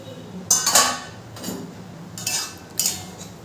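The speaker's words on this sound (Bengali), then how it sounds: "খুন্তি দিয়ে একটু ভালো করে নেড়ে দেবো।" Pointed gourd stirred in a pan with a metal spatula, giving four sharp scraping clanks spaced out over a few seconds, close and loud.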